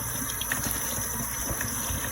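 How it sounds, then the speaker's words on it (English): Linguine pasta being rinsed under running water from a kitchen tap, a steady close hiss and splash of flowing water with no talking. "so I'm rinsing out my linguine"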